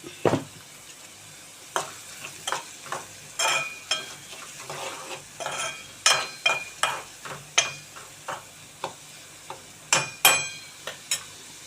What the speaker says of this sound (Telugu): ఉల్లిపాయలు అయితే వేగుతున్నాయండి